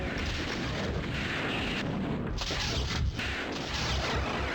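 Rocket blasts and splash damage in the Doom video game: a dense, continuous roar of explosive rumble and crashing noise that fills the whole stretch, loud and unbroken.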